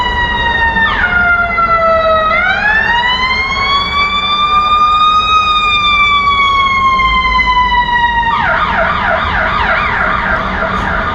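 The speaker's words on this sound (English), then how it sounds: "the ambulance is going to pick up somebody who's not well and take them to hospital" An ambulance siren sweeps loud and steady in a wailing pitch glide, then switches to a fast yelp near the end, heard at an outdoor street event in Chicago.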